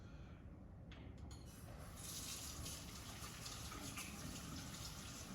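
Tap water runs steadily into a kitchen sink while hands are washed after handling raw hamburger and egg for sliders, starting with a faint trickle and swelling into a full, close gushing stream.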